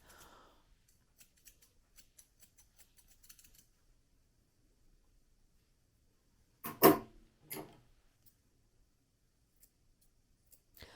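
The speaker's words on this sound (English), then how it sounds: "Just taking a little tiny bit of these eye corners with my safety scissors." Two close, crisp safety scissor snips trimming the face fur around a Coton de Tulear's eye corners sound a moment apart, surrounded by faint light clicks in an otherwise quiet room.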